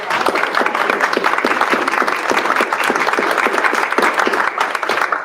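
Audience at a panel event on water challenges with BIPOC communities gives a round of applause, a steady crowd of individual claps close by, with little speech.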